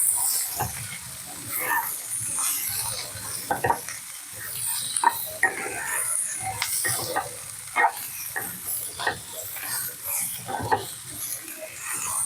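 Radish and coconut fry in a pan for chutney with a continuous sizzle, broken by frequent scraping and stirring knocks from a spoon.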